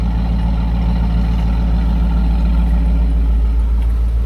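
A completely stock C5 Corvette Z06 V8 idles steadily, stock filter and exhaust manifolds, with a deep, even low-end rumble and a fast regular pulse that holds loud and close for the whole stretch, no talking.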